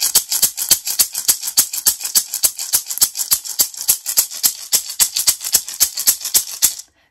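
A shamanic rattle filled with corn shaken steadily, giving a fast, even run of sharp, bright dry rattling bursts, loud and close, with no voices, ending abruptly.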